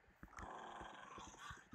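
A creature in a Minecraft-style survival game gives a low, rough growl lasting about a second and a half, fairly quiet and heard alone without talk.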